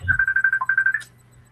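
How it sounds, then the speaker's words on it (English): A phone goes off with a rapid electronic ringtone, a fast run of bright pulsed beeps ending with a short higher chirp, loud and close, then quiet room tone. "phone keeps going off."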